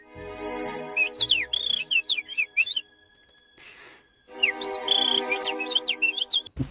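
Bird chirping sound effect, two bursts of rapid, bright warbling tweets and whistles separated by a short pause, loud and close.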